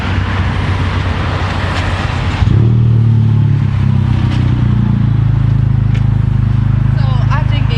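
A tuned Honda Civic Type R engine idling, then rising to a strong, steady high-rpm rev about two seconds in and holding loud and close, with people talking over it.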